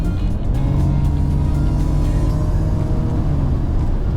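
A BMW 5 Series V6 engine revs hard and accelerates, a loud, steady rumbling roar that holds strong throughout with no talking.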